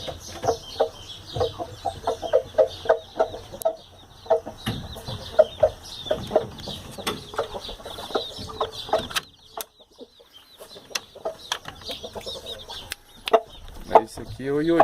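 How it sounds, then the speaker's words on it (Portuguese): A black rooster in heavy moult clucks in short, repeated bursts close by on a backyard poultry run, with other fowl sounds and faint background noise between the calls. "Esse aqui é o outro galo preto, fazendo uma muda brava também."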